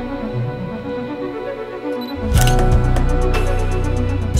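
A camera shutter fires in a quick burst of crisp, evenly spaced clicks on a photography road trip in Norway, loud and close over a steady low rumble.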